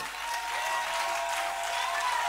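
A church congregation bursts into sustained applause, a dense even clapping that fills the room for a couple of seconds.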